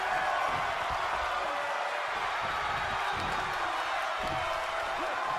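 Arena crowd in WWE 2K22 roaring and cheering steadily throughout, a dense wash of voices that stays loud and continuous with scattered claps and whoops.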